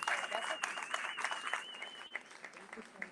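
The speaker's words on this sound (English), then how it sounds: "Let's give them a round of applause." Audience applause at a talk event at the Island SPACE Caribbean Museum, a dense wash of many hands clapping, steady and fairly loud throughout, with a sustained tone running over it and no voices standing out.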